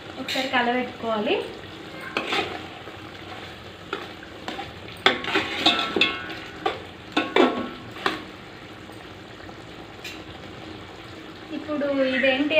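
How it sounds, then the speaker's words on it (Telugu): Stirring chicken pulao in a pot in Mughalai restaurant style, with a spoon scraping and clattering through the rice amid sizzling, in several bursts, while a voice talks over it. "ఒకసారి కలబెట్టుకోవాలి"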